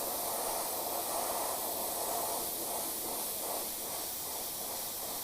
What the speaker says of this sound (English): I'm going off the template, just kind of spraying off this way.